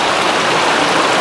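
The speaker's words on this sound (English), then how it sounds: "it's been raining, still raining" Rain falling steadily along a forest stretch of the Loyalsock Trail near Mineral Spring, a dense even hiss of drops on leaves and ground, close and fairly loud, with no talking.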